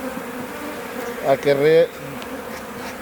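Bees buzz steadily around a beehive with a fallen cluster of bees, a dense close drone that swells briefly louder in the middle, with faint speech underneath.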